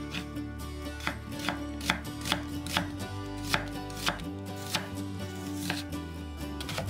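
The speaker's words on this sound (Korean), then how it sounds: "양파 4분의 3개는 살짝 굵게 채 썰고" A knife chops onion on a cutting board in steady, evenly spaced strokes, sliced fairly thick into strips for fresh napa cabbage kimchi, with quiet background music underneath and no talking.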